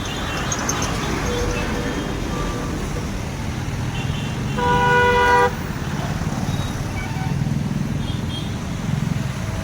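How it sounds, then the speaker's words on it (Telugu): Busy road traffic at the Ramavarappadu ring in Vijayawada, a steady rumble of passing vehicles broken by a loud, sustained car horn blast near the middle and scattered shorter toots, with some background voices. "ట్రాఫిక్ సౌండ్ చూసి ఎంజాయ్ చేయండి ఈ ఏరియాని"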